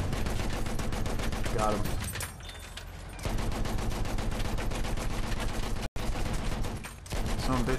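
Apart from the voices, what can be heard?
gunfire from the video game Battlefield 1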